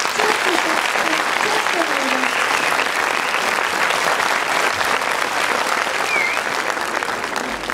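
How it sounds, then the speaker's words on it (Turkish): An audience at a first-grade reading celebration at a Turkish primary school applauds loudly and continuously, a dense roar of clapping with some voices and cheering mixed underneath throughout. "Alkışlarınızla bizleri cesaretlendirirsiniz"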